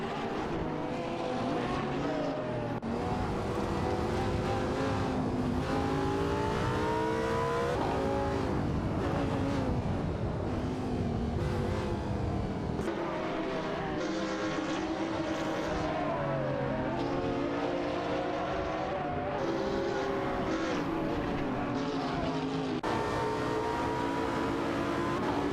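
Engines of a Lamborghini Sesto Elemento and an SSC Ultimate Aero TT in a racing video game, a loud, continuous high-revving roar with repeated rising pitch sweeps as the cars shift gears and accelerate, no voices.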